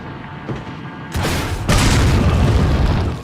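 The Infinite Rocket Launcher in the video game Resident Evil 4 fires, then a heavy explosion booms loud and close, followed by a deep, sustained rumbling roar that lingers to the end.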